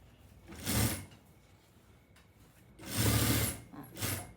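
Sewing machine stitching the back panel seam of a suit jacket, two longer bursts of running needle motor separated by a quiet pause, close and clear with no talk.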